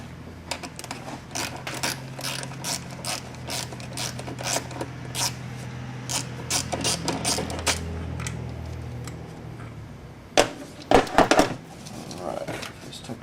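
Ratchet clicks and clattering metal tool work while unbolting the radiator fan on a 2006–2011 Ford Crown Victoria, a dense run of close, sharp taps and rattles with a few louder knocks near the end.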